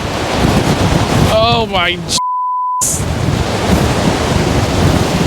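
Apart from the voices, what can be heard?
ocean waves crashing in the wind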